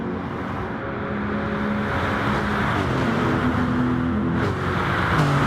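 Racing cars drive side by side in a racing video game at the Maggiore GP circuit. Layered engine drones hold steady and close, with overlapping pitched tones from more than one car, and the level swells slightly near the end.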